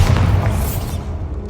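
A Bombarda spell explosion in Hogwarts Legacy lands as one loud, deep, close boom that rumbles and fades over about a second.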